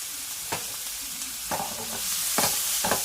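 Ingredients with chopped coriander, parsley and soy sauce stirred in a sizzling frying pan, a constant hiss broken by four sharp scraping strokes of a utensil against the pan, close and clear.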